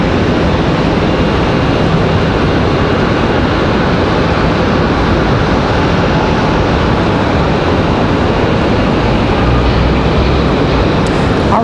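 An Air Canada airliner departs Raleigh-Durham International Airport, its jet engines making a steady, loud broadband roar that holds unchanged throughout.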